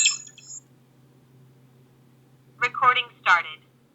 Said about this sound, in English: So there are audio alerts, as you heard.